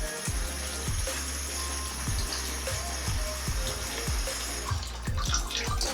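Tap water runs steadily into a washing basin, a continuous close splashing flow with faint knocks and clinks from the basin now and then.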